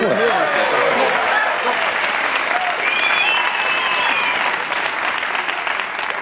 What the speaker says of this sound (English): You don't have to applaud.